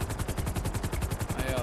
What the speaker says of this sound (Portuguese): Ih, tiro.